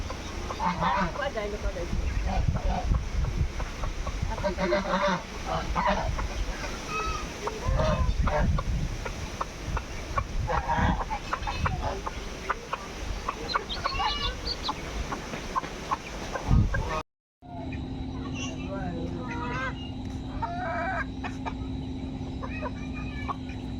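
Native chickens clucking in a farmyard, with repeated calls over continuous yard noise; the sound cuts off briefly near the end and resumes, and faint speech can be heard.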